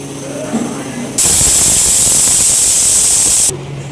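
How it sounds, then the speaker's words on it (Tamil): A pressure cooker cooking goat leg paya lets out a loud, steady steam whistle, a harsh hiss lasting about two seconds that starts and stops abruptly, close by, with no talking. "விசில் வந்துருச்சு"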